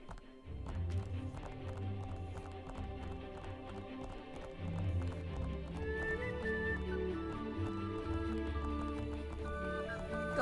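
In the video game Split Fiction, goat hooves clop quickly and steadily across a mountain over a dense, busy game soundtrack, loud and continuous throughout.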